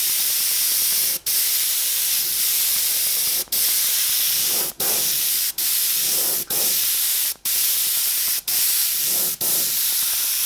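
An airbrush sprays a fine paint mist in several long, steady hissing bursts, each separated by a brief break, close and fairly loud.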